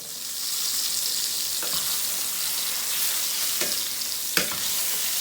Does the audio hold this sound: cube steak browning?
yes